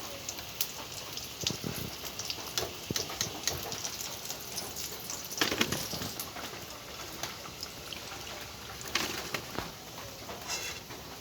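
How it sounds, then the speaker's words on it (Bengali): Heavy rain falls outside in a constant, loud hiss of drops drumming and pattering on surfaces, with occasional louder splashes and a faint bird call somewhere in the downpour, and no speech. "বাইরে প্রচণ্ড বৃষ্টি হচ্ছে"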